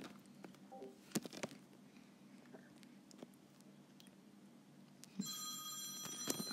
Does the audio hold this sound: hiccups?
no